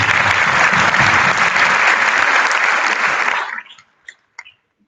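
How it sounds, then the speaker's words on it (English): Dense, loud audience applause from a large crowd at an event, steady for over three seconds before abruptly tapering off, leaving a few scattered late claps in near-silence. "So if you could please join me in applauding this lovely group of individuals."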